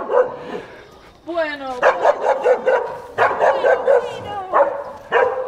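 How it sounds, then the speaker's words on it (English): A small bearded dog on a street in Cuenca, Ecuador barks in repeated sharp, yappy bursts with a rising whine, fairly close, while people talk over it. "watch out for the barky barky"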